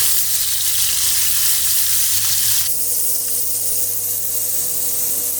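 Sliced onions fry on high heat for a chicken curry, giving a loud, steady sizzle that continues without a break and shifts slightly partway through as they are moved.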